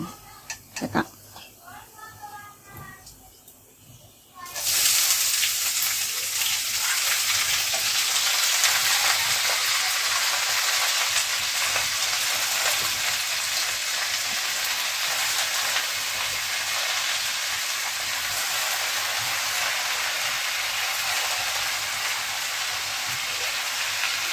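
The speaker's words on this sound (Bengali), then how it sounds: "এবার আমি শাক কাটা কড়াইতে দিব" Chopped greens go into a hot wok for Pui Shaak with crab, starting quiet handling sounds that burst into a loud, sustained sizzle about five seconds in and continue steadily to the end.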